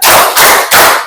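Children clap in a rhythmic clapping game, three loud, evenly spaced bursts of claps close by, filling the short moment with no talk.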